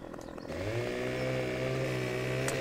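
A chainsaw in the Farming Simulator 17 video game starts up and settles into a steady, droning buzz that holds for a couple of seconds at moderate level.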